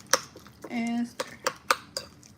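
Utensil stirring mustard, mayo and relish together in a bowl, a short soft scraping swirl framed by a few sharp clinks of metal against the dish, with a voice speaking nearby.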